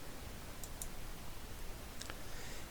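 Faint mouse clicks while applying settings in ArcGIS Pro, two quick pairs of soft clicks over a quiet background hiss.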